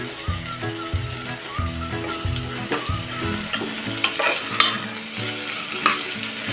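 Cauliflower with onion and tomato sautéing in a pan, a continuous nearby sizzle broken by repeated clattering spoon strokes as the vegetables are stirred, with no voices.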